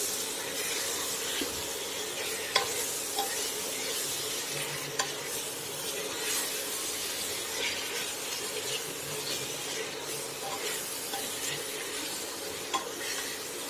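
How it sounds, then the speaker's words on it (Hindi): Tomatoes, julienned ginger and spices frying in a pan for spinach and meat curry, a steady bright sizzle with occasional soft stirring scrapes and small taps, close and continuous with no talk. "अब मिक्स करेंगे।"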